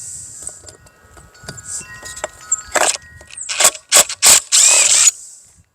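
A screw is worked loose from the cover of a 1960s Honda motor with a power tool, short sharp metallic whirs and clicks in several bursts, the last one longer, close by.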